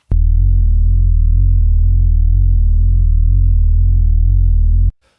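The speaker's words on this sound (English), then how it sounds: "I've made sure that the synth glides between every note" A deep, sustained sub synth bass tone held for about five seconds, its pitch gliding smoothly between notes with portamento, then cutting off abruptly.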